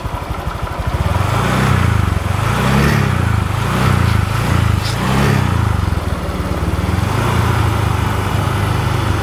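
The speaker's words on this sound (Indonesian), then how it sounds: "Nah, coba kita geber dikit" A Honda Vario F1 scooter engine being revved in repeated swells above a steady idle, loud and close, with the radiator coolant being checked for a leak.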